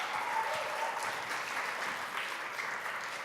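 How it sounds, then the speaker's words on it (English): An audience at a corporate presentation applauds steadily, a dense, even wash of clapping heard from a middle distance for several seconds. "let's give a big round of applause for Irene."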